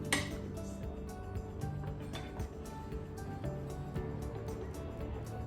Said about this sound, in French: grossièrement, on coupe les kakis